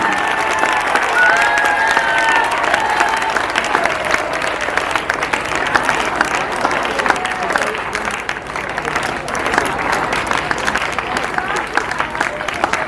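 Strong, sustained applause rolls through a hall as an audience at a Teachers' Day function cheers its teachers, the clapping thick and even throughout with some crowd murmur.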